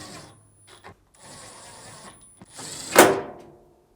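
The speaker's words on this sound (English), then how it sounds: "tilt the control panel back in place and reinstall the 4 screws" Screws are driven back in to secure a dryer's control panel, producing short mechanical whirring bursts of a screwdriver with a brief louder scrape near the end, close up and isolated.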